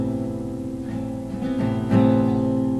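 Guitar chord for a song intro, played as a sustained, ringing strum with a couple of fresh attacks and a slight shift near the end, clear and close, with no voice over it.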